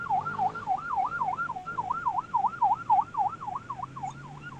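A wailing siren sweeps up and down in a steady, rapid cycle, moderately loud over a low background rumble of traffic.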